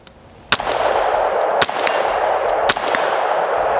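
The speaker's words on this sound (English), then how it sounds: "let's just try this here at distance, shooting left-handed here." Three sharp pistol shots fired left-handed at a target at distance, each a loud crack spaced about a second apart over steady wind or outdoor background noise, with no talking.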